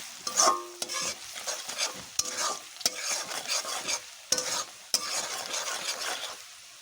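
Turmeric, coriander and chilli powder stir-fried in a pan, repeated sharp scrapes and clinks of a spoon against the pan over a low sizzle, close by and without speech.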